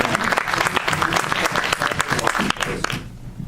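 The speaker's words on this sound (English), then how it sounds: "Well, everyone, give them a round of applause." An audience applauds a panel of web series creators with dense, continuous clapping from many hands. The applause holds steady and tapers off at the very end.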